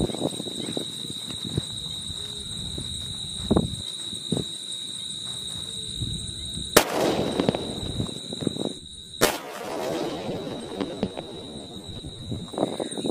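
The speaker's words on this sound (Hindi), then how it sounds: "तो गाइस अब बारी है 555 की, जो कि है टाइम बॉम्ब। इसमें लगाते हैं आग और देखते हैं कैसे चलता है ये।" A 555 time bomb firecracker is lit outdoors during Diwali, with faint crackling and fizzing followed by two sharp, loud bangs a few seconds apart amid background hiss and noise.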